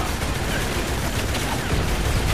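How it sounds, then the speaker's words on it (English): Dense, continuous enemy gunfire in the Transformers: Revenge of the Fallen video game, Decepticons campaign: a loud, unbroken wash of rapid shots filling the whole moment. "You are taking enemy fire."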